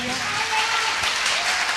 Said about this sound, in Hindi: मैं चाहूंगा सर के लिए एक जोरदार तालियां